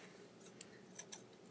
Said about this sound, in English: I am going to cut this little strand